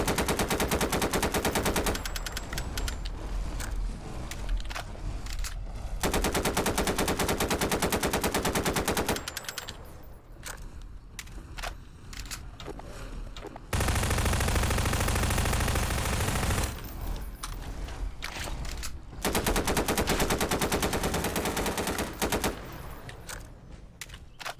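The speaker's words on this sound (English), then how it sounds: "The SMG just tears them up, man." A submachine gun fires in a Garry's Mod session using a Fallout 4 Deathclaw creature mod, with loud, sustained automatic bursts broken by short pauses and some quieter stretches between volleys.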